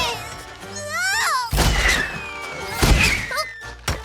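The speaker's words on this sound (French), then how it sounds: "C'est Pépé qui s'entraîne au tir au canon avec Mathilde" Cartoon pirate cannon-firing practice in a French children's animated series: several heavy booming thuds and crashes land in quick succession, mixed with whistling, sweeping tones and brief animated voices.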